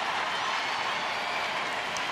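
A stadium crowd at a women's soccer match between Monterrey and Lyon sends up a steady, broad wash of cheering and applause, heard from a distance and sustained without break.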